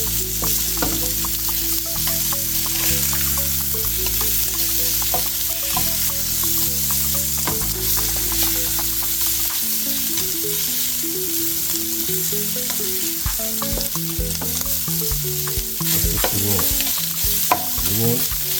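Shrimp sears in a hot pan, a loud, dense, continuous sizzle with scattered crackles and background music underneath.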